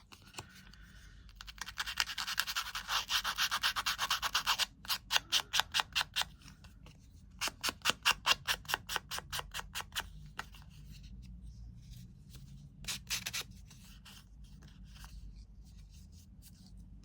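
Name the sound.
sanding paper edges with sandpaper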